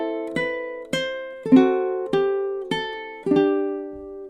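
A ukulele plays measures 13 to 16 of the Irish folk song The Black Velvet Band, with six clear plucked or strummed chords in a steady, even rhythm that ring close and bright, each one fading before the next.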